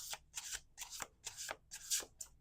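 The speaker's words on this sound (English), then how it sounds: "Okay, last shuffle." A deck of tarot cards is riffle-shuffled up close, five quick rhythmic bursts of fluttering card edges in about two seconds, soft and crisp with no voices.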